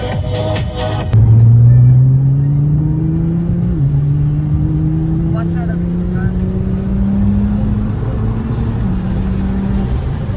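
Nissan GT-R R32 car engine, heard from behind on an Irish supercar road trip, a steady low drone with slowly rising revs through a couple of gear changes, fairly close and continuous, with people talking over it.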